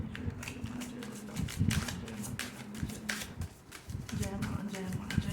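Tarot cards are picked up and shuffled close by in a steady run of soft riffling flutters, partly under a voice speaking Hindi.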